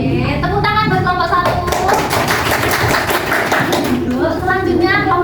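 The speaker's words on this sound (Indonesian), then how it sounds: "Tepuk tangan buat kelompok" Steady classroom applause for a student group fills the whole stretch, loud and continuous, with children's voices chattering faintly underneath.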